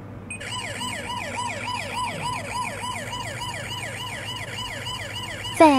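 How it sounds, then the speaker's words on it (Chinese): The H82 body camera's built-in alarm plays a loud, steady, wailing electronic siren that rises and falls in rapid repeated sweeps, close and alone, for several seconds. "警报"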